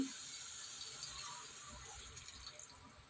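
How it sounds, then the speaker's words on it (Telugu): Water is poured into a cooking pan while making a tomato egg curry, a soft steady splashing stream heard alone. "వాటర్ కూడా పోసేద్దాం."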